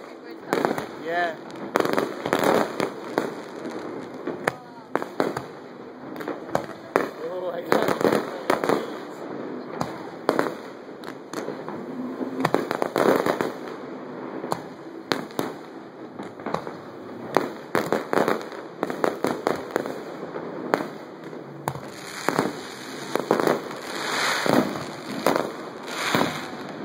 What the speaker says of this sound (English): fireworks are right by our room.